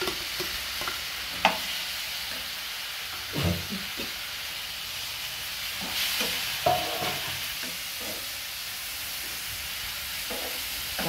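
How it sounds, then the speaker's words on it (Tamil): A spoon stirs ginger and garlic sautéing in a pan for home-style chole masala, scraping in scattered sharp strokes over a steady soft sizzle of frying. "இஞ்சி பூண்டு இதெல்லாம் கொஞ்சம் நல்லா மேட்ச் ஆகிடுச்சு, வதங்கிடுச்சு"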